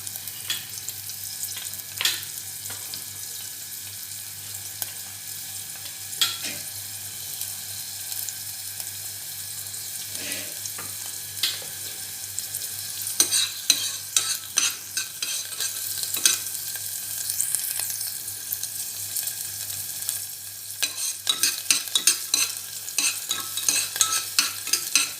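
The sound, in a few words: onions frying and being stirred in pan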